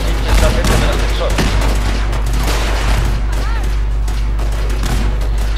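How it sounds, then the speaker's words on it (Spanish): Combat in the video game Fallout 4, with dense bursts of gunfire and explosions crackling continuously and loudly throughout, plus a voice talking over the action. "imaginaos el combate que debe estar pasando para que haya esas explosiones"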